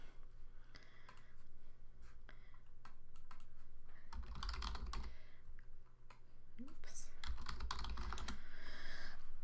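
Typing on a computer keyboard while filling in a scholarship application form, with scattered keystroke clicks over a steady low hum and background noise.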